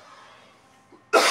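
A single sharp cough bursts out near the end, loud and close, after a stretch of faint room noise.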